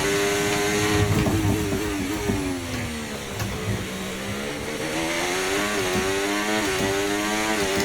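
Formula 1 car engine in the F1 24 racing game, a steady high-pitched whine with rising and falling revs as the throttle is eased, playing continuously without speech.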